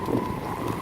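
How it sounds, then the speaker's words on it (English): Strong hurricane wind buffets the microphone outdoors during Hurricane Irma, a loud, continuous rushing roar with no talk. "Oh god, it's windy."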